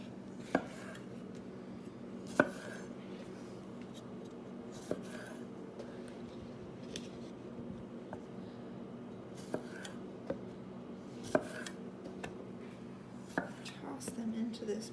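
A knife chops cherry tomatoes for a salad, giving sharp, irregular taps on a cutting board spread over a quiet kitchen background, close by.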